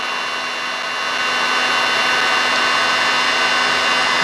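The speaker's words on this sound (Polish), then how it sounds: "Jeżeli nie macie tutaj opalarki, to suszarka też na największej mocy jest zupełnie wystarczająca." A hair dryer running on its highest setting to heat the plastic display cover of a Xiaomi electric scooter, giving a steady, loud, even whoosh that swells slightly after the first second and holds with no talking.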